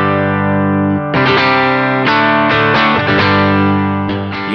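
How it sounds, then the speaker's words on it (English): Electric guitar through a clean amp, a few chords struck one after another and left to ring with bright, sustained harmonics. "Going straight into the amp with a clean tone,"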